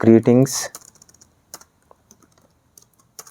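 JavaScript code being typed on a computer keyboard, sparse light key clicks following a brief burst of speech at the start.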